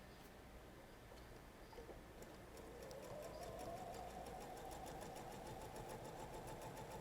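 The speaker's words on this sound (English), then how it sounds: "Go over and sew this." A home sewing machine stitches quilt pieces joined with setting squares and corner triangles, its motor holding a steady, close whirring hum that grows a little louder partway through and runs without pause.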